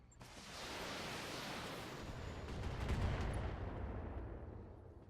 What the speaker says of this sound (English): You are just going to fire your LRM-10 for me